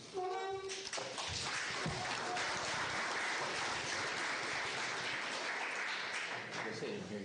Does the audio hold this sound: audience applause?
yes